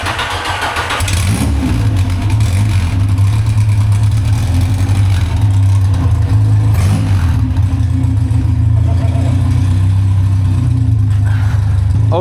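A 1968 Ginetta G4 sports car's four-cylinder engine starts and settles into a loud, throbbing exhaust rumble close by, revving slightly as it idles steadily.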